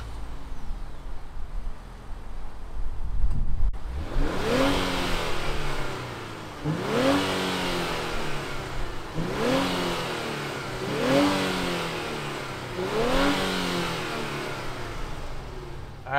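A 2021 Infiniti Q60 Red Sport 400 all-wheel-drive luxury sport coupe starts up with a cranking burst, then revs in four loud, evenly spaced swells, each falling back to idle between them.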